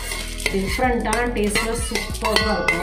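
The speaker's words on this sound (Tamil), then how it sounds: "இதை பொரி மாதிரி பொரியும் பாருங்க" Rice grains dry-roast in an oil-free pan for puffed rice upma, giving a soft sizzling crackle with scattered small pops and the scrape of stirring, close and moderately quiet, while a voice talks.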